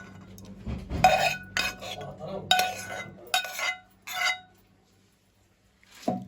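A spoon stirs and scrapes chicken and chestnut pilaf in a pot, with rice slightly stuck to the bottom, making several distinct close metallic clanks and scrapes in bursts separated by short pauses, then a final clank after a quiet gap.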